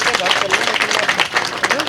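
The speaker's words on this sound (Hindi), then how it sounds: "आप तमाम लोग एक बार तालियों की गड़गड़ाहट से उसका हर्षवर्धन करें।" A crowd at a political gathering breaks into loud, dense clapping, mixed with shouts and cheering voices, close and energetic across the whole stretch.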